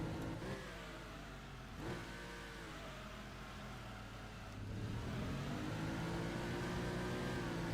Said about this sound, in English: I'm also pushing my engine motor quite hard on the revs as well